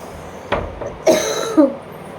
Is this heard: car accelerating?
no